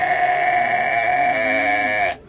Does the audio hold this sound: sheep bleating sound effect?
yes